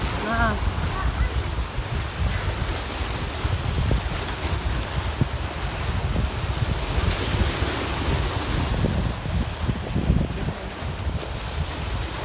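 Rough sea waves driven by Typhoon Quinta surge continuously along the shore at Garcia Hernandez, Bohol, with heavy wind buffeting the microphone and a brief voice near the start.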